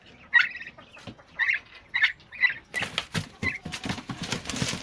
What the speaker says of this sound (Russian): Прямо индюк.